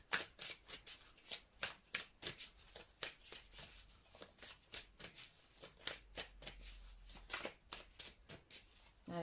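A deck of cards being shuffled and cut, with a steady run of rapid riffling bursts, close and fairly quiet, with no talking.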